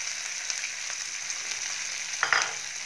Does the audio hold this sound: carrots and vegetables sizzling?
yes